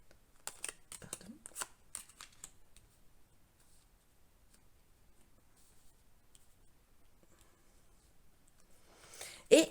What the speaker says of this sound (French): si j'arrive à placer toutes les cartes